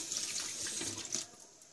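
Tap water running into a kitchen sink while washing during home baking of honey crackers, a steady close splashing stream with small irregular surges and no talk.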